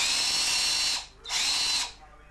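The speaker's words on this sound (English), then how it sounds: "Would you hear the engine of this thing going?" A cordless hammer drill runs in two loud, steady bursts of about a second each with a short pause between, close up and alone.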